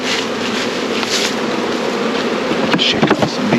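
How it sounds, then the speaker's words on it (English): Honey bees swarm around an open hive during an early spring split, a dense, steady buzzing drone that stays close and loud throughout, with a few brief louder swells near the end. "Shake off some bees here."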